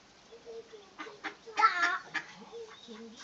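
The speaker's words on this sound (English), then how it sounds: "How many ducks can you see, Ella?" Several ducks quack softly in short, irregular bursts, fairly close by and quiet overall.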